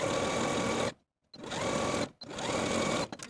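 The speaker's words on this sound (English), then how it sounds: "Now I'm going to take both of these front bodices to my sewing machine and edge stitch close to this inner fold from top to bottom" Home sewing machine edge stitching close to an inner fold on blouse front bodice fabric, running in three steady bursts with two short pauses, close and alone without talk.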